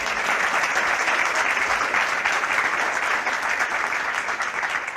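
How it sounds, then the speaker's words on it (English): Sustained audience applause at a public event, dense steady clapping from a large crowd held at an even level throughout with no speech over it. "Would you like to spontaneously applause,"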